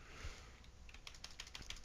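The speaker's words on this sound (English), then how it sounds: "why am I typing in Factorization?" Fast, uneven clicking of computer keyboard keys up close, heard over a faint background hiss during a Minecraft modded (Feed-The-Beast) play session, with no speech.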